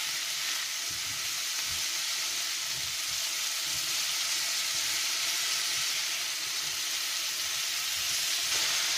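Zucchini and champignon mushrooms fry over high heat in a pan, a steady loud sizzle and hiss running throughout, with faint scraping of stirring underneath.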